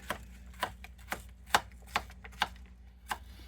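A knife chops an onion on a board for a salad, giving about eight sharp, close taps at an uneven, brisk pace with no talking.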